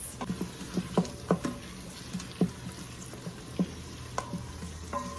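Food sizzles as it cooks down in an Instant Pot for a low-carb creamy chicken soup, a soft frying hiss punctuated by irregular close pops, crackles and stirring clicks, with no voices.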